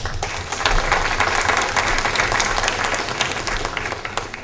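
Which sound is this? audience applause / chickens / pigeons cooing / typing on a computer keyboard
audience applause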